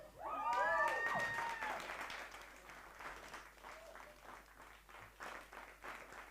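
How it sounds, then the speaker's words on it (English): Summit audience applause in Johannesburg, continuous clapping from a crowd running under a loud voice at the start, then carrying on alone at a moderate, fairly steady level. "Let's keep that applause going since there's no trophy here."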